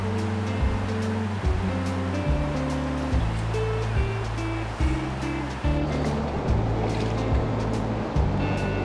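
A large river in New Zealand rushes steadily in a loud, continuous wash that holds from start to finish, with low sustained tones running beneath it.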